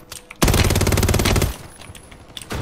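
Gunfire from Call of Duty Warzone, a loud, dense, rapid automatic burst lasting about a second, then a fainter shot or two afterward.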